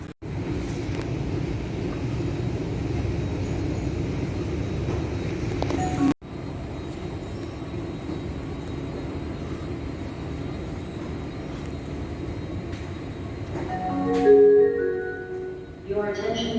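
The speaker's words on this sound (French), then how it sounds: "je vais prendre le métro" A Los Angeles Metro subway train rumbles in a steady roar with an abrupt cut partway through, followed by chime-like tones near the end, while voices talk over it.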